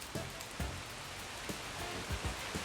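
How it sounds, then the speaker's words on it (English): Heavy rain from a tropical depression falls in Charlotte, North Carolina, as a soft, steady hiss, with scattered close drops or drips tapping in irregularly and no talking. "Now we're getting into some heavy rain."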